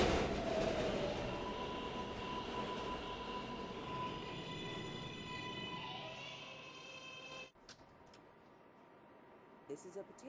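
A 7 local subway train in a Roblox game rumbles and screeches along the rails with a steady whine, then cuts off abruptly into quiet with brief electronic blips; an automated voice announcement plays over it.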